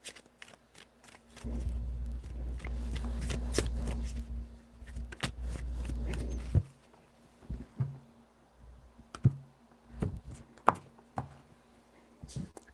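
A deck of tarot cards is shuffled in a quiet room, with a sustained riffling burst followed by several separate taps and soft slaps as the cards are squared and set down.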